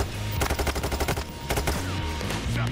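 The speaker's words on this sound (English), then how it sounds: "Yeah, I got him with a pistol." Rapid bursts of pistol gunshots in the heist shooter Payday 3, loud sharp cracks firing in quick irregular succession with a short pause between volleys.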